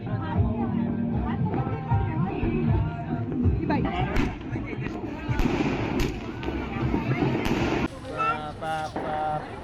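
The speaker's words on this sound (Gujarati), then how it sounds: "હવે આપણે બી ફોડીશું ફટાકડા" Firecrackers burst repeatedly in sharp, irregular cracks over a noisy outdoor crowd at Uttarayan evening in Ahmedabad, with people chattering throughout.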